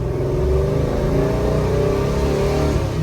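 A 1966 Chevrolet Chevelle engine revs loudly and steadily through its exhaust, a deep, rough, continuous rumble heard close up with no pauses.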